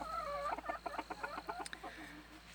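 Chickens and a rooster clucking and cackling on grass, a quick series of close, rhythmic clucks that tail off near the end, with no talk.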